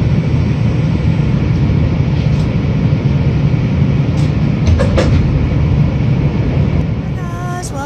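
Loud, steady rumble of a Calgary Transit train in motion, constant roar with a few faint clicks and squeaks near the end.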